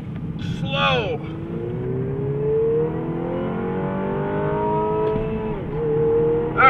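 A 2017 MINI Clubman John Cooper Works engine rises steadily through the revs on a race track, then drops as the car brakes for a chicane and climbs again, heard from inside the car.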